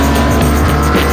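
The most hardcore BMW ever made, cornering hard on a test track, its engine roaring loudly and steadily with a tire squeal edge through the short burst.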